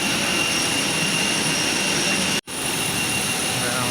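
Aircraft jet engines drone loudly and steadily inside the cabin of a small passenger plane in flight, a continuous broadband roar broken by one brief dropout.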